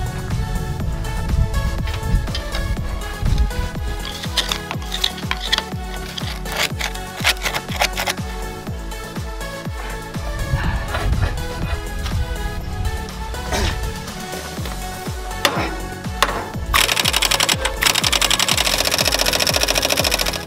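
Impact wrench hammering at rusty bolts on a Tatra truck, a loud rapid mechanical rattle in repeated bursts with brief pauses, ending in a harsh sustained whir.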